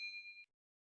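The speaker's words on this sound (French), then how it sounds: "N'hésitez pas à vous abonner et d'activer la petite cloche de notification pour ne rien rater sur la chaîne." A notification bell sound effect rings out as a single short, bright electronic ding, clean and close, then cuts off abruptly into silence.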